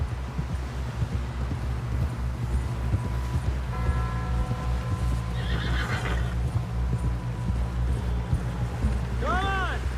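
A horse whinnies with rising, wavering cries near the end, over steady hoof clip-clop and busy outdoor rumble as riders push toward a camp, with voices shouting in the background.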